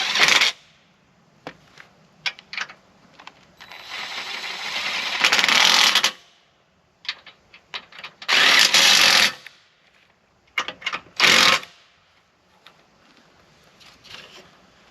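A power tool bolts down an electric jack on a camper, with several loud whirring bursts of a few seconds each, separated by short clicks, taps and quiet gaps.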